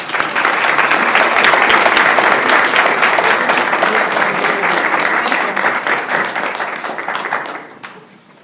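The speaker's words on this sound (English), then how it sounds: "Can we give them another round of applause?" An audience at a school board meeting breaks into loud, sustained applause that holds steady for several seconds, then tapers off as the clapping dies away.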